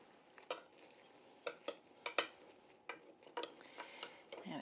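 Bread pudding being served onto a plate, a string of light utensil scrapes and soft clinks of serving tools against china, quiet and close with irregular pauses.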